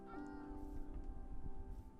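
A cat meows once in Minecraft, a faint drawn-out cry over a low steady background with a soft musical tone.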